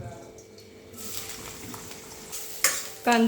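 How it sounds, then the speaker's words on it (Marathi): Onion sizzles in hot oil in a pan, faint at first, then a louder frying hiss with a sharp stirring clatter near the end, heard close up during a brief moment. "तेल चांगलं गरम केलं की त्याच्यामध्ये आपण कांदा"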